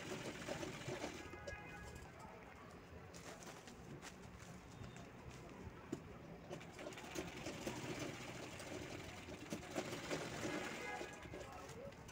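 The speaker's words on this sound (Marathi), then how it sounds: "त्यानंतर हे आपले चारही कोपरे शिवून घ्यायचे आहेत अशा पद्धतीनं" A sewing machine stitching the four corners of a fabric organiser, heard as a steady, faint mechanical whirr over a noisy room background. The whirr runs continuously for the whole stretch.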